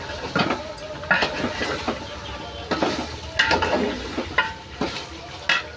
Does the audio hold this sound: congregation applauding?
no